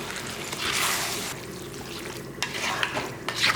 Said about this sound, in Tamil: நல்லா மட்டனை வந்து நல்லா வதக்கிடணும்.